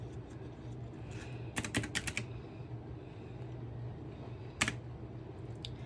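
Buttons on a handheld calculator tapped in a few quick clusters of short clicks, close by and fairly soft, over a low steady room hum.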